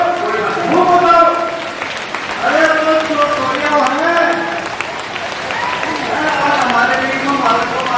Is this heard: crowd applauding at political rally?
yes